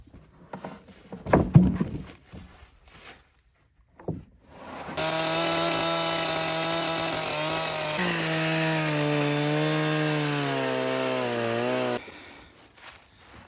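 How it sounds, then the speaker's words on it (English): A chainsaw cuts into a log that has a nail inside, sounding loud and close with a steady high-revving whine held for about seven seconds. Softer knocks and handling sounds come before and after the cut. "so I cut it with the chainsaw here"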